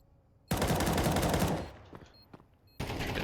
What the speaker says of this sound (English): That M4 that Bones has can deliver headshot kills.